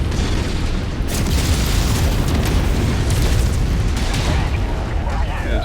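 An explosion in the mech video game Kestrel Lancers produces a dense, loud, rumbling roar that keeps up for several seconds with crackling bursts layered through it.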